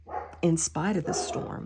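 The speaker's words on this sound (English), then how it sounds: "I apologize for my dog." A dog kept outside barks in a few short bursts beneath and between a man's continuous speech, the barks fairly close and moderately loud.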